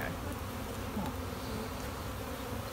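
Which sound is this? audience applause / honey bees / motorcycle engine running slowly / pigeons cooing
honey bees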